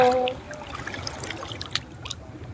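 Sea water at a beach, a soft close trickle and splashing of water with small drips and sloshes, faint and continuous without talking.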